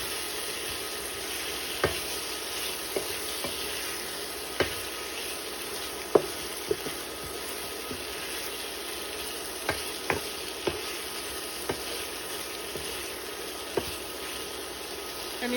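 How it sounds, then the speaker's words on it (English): Liberian pepper snail being mixed in a pan with sautéed onions and pepper: a quiet, steady hiss broken by occasional sharp clacks of a utensil against the pan, spaced a second or two apart. "we're gonna add the rest of our our sauteed onions and pepper to this. And we're gonna mix this very nicely."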